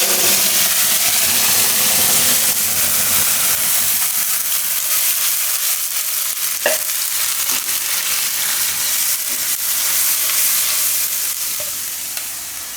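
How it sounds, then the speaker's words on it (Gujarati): Spinach puree hitting hot oil in a pan gives a loud, dense sizzle that slowly settles into a softer, steady frying hiss, with an occasional stir and no voices. "તેલ આપણું ગરમ થઈ ગયું છે તો એમાં આપણે નાખી દઈશું આ પાલકની પ્યુરી"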